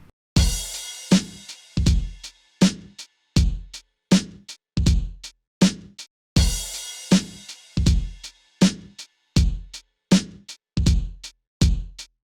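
A simple Ableton Live electronic drum kit beat loops steadily: punchy kicks and crisp snare hits in a regular groove, with a bright cymbal wash at the start of each bar.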